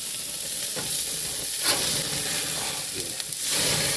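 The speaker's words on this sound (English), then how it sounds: "We're going to give these a flip." Burgers sizzle steadily on a hot grill, a continuous close frying hiss with brief scrapes and bumps as the patties are flipped.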